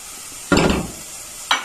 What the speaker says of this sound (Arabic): نعطيو التحراك للبصله باش ما تشيطش لينا